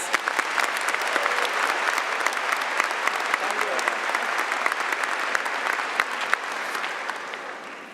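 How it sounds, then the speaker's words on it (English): Sustained audience applause at a Johnson & Wales University commencement ceremony in Providence, a large crowd clapping loudly and evenly for several seconds before beginning to fade. "Please join me in giving another round of applause for Dr. Nigel Travis."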